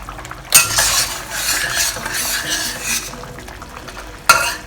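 A spatula scrapes and clatters in a pan, stirring a sizzling dark soy sauce mixture for chilli tofu prawns. Sharp metal clinks open and close a close, loud burst of stirring over the frying hiss.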